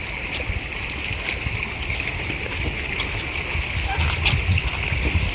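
Flowing water runs toward a large dam, splashing and streaming steadily and fairly loud, with a constant rushing hiss throughout.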